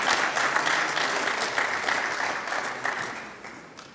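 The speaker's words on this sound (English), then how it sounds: "let's get a round of applause again to Bevel" A forum audience claps in a steady, full round of applause that tapers off slightly toward the end.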